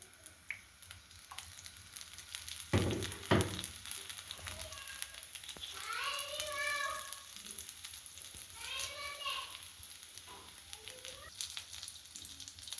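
Curry leaves hit hot oil in a pan and crackle and sizzle steadily for several seconds, with scattered sharp pops and a voice talking softly over the frying.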